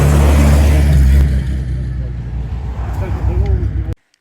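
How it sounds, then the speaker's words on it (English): Steady low road rumble of vehicles going past near the Shelsley Walsh hill climb in Worcestershire, loud at first then easing to a continuous traffic drone before cutting off abruptly. "the cars are flying by as well"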